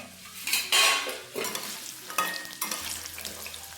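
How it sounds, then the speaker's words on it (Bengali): Green banana pieces fry in hot oil for a village shukto curry, with bursts of sizzling as the pieces are stirred and a few utensil scrapes against the pan, close and fairly loud. "এবারে দেখবো কলাগুলো ভাজা ভাজা হয়ে গেছে কিনা।"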